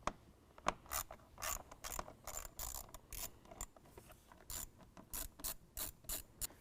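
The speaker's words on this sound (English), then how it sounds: "I'm going to use a 7mm to loosen the hose clamp holding our intake tube" A 7mm tool loosens a hose clamp on the intake tube of a 2017 Ford F-250 Powerstroke, giving quick repeated ratcheting clicks in short bursts, close and fairly quiet, with no talk.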